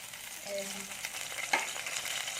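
Balls of flour dough frying in hot oil, a steady soft sizzle that flares briefly as more dough goes in, close and continuous with no talk.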